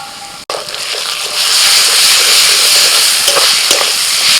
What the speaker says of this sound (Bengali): পেঁয়াজের সাথে রসুন কাঁচা লঙ্কাটাকে দু মিনিট ভেজে নেব